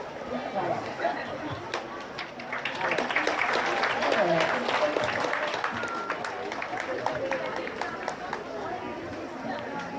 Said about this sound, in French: On peut applaudir bien fort, mesdames et messieurs, s'il vous plaît